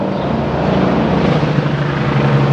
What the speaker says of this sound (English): I'm sorry about the helicopter. There must be some type of activity in the neighborhood.